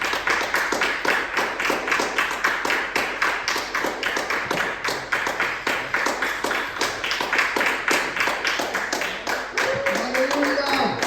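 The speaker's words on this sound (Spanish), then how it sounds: "Denle un aplauso al Eterno." A church congregation at a live Bethel, Pennsylvania service claps steadily and loudly for over ten seconds, a dense rhythmic patter of many hands, with a voice briefly rising over it near the end.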